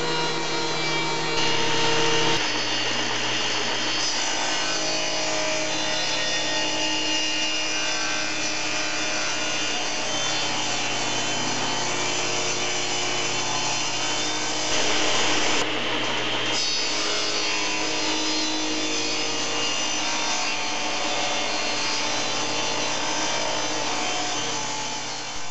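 A power saw running steadily through a wooden board to true up its edges for a segmented zig-zag bowl, a loud continuous whine with a slight shift in pitch partway through, alone without talk.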